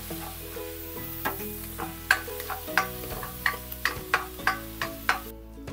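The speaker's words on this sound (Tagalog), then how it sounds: "Unahin na natin itong bawang. Isang ulo ng bawang yan. Igisa lang muna natin yan ng mga ilang segundo." A whole head of garlic sautéing in a hot pan, steady close sizzle with regular taps of a spatula stirring against the pan.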